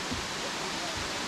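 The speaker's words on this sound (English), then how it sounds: "And you can hear a waterfall." Waterfall in a rocky canyon near Ubud, Bali, a steady broadband rush of falling water that holds evenly, fairly soft and distant, throughout the short moment.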